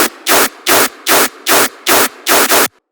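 Dubstep riddim lead synth with stacked octave layers up to five octaves up, giving a thick, harsh, noisy tone in rhythmic bursts: seven loud, evenly spaced gated hits followed by a brief stop.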